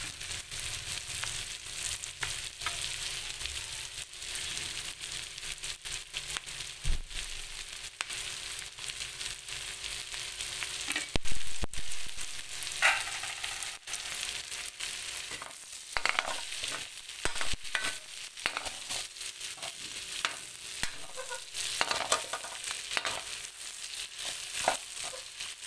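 Onions sautéing in a pan for pork rib kaldereta give a steady, close sizzle with scattered stirring scrapes and crackles for the whole stretch, and no voices.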